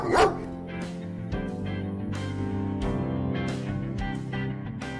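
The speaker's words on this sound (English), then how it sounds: "DOG," A single sharp dog bark sounds at the start, followed by steady background music.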